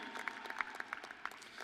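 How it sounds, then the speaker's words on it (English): An audience at a commencement ceremony for returning graduates of the Class of 2020 and Spring 2021 breaks into applause, a brief burst of scattered hand claps heard fairly faint and at a distance. "Big round of applause, graduates, to all these people who made such a difference in helping you get here today."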